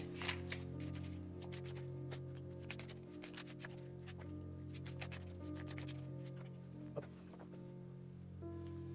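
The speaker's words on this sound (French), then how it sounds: "Je vais juste mélanger un petit peu et on va avoir un tirage pour vous" A deck of oracle cards is shuffled by hand, producing soft, irregular riffling and tapping sounds over a steady tonal background hum, with no talking.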